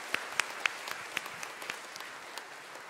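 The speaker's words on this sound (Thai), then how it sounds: "เราปรบมือสรรเสริญพระเจ้า" A church congregation applauds in praise during a Thai worship service, heard as sparse, faint claps scattered across the moment, a few sharper near the start, with no talking.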